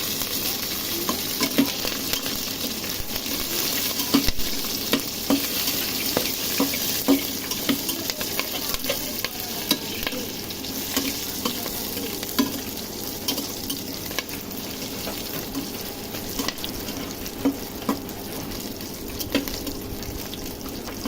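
Panch phoron spices sizzle steadily in a pan for a khichuri made with kalai (urad) dal, with frequent scraping stirs and light clinks throughout, close and continuous with no talking.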